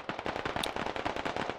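Rapid bursts of automatic gunfire in the military shooter game Squad, fired by insurgents from a hillside, forming a dense continuous rattle of overlapping shots throughout.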